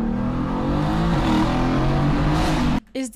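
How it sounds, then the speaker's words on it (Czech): A car engine revs hard after a downshift inside an underpass, a loud sustained roar with rising harmonics that cuts off abruptly near the end. "Když necháš dostatečně odjet auta před sebou, podřadíš si, tak to udělá pěkný zvuk"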